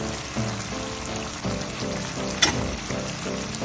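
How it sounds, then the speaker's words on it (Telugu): Pieces of chicken fry with frozen coriander as they are tossed and turned in the pan, a close, busy sizzle with rhythmic bursts of stirring and a sharp clink partway through. "ఇప్పుడు ఫ్రోజన్ కొత్తిమీర వేసి చికెన్ అటు ఇటు తిప్పేసి"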